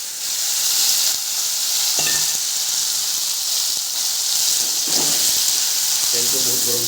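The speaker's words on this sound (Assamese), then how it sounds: "তেলটো বহুত গৰম হৈছে তো আমি কুচিয়াখিনি ফাৰ্ষ্ট টাইম এনেকৈ ফ্ৰাই কৰি ল'ম" Pieces of eel sizzle in very hot oil in an Assamese-style kitchen, a steady loud frying hiss with occasional clinks and stirring scrapes of a utensil against the pan.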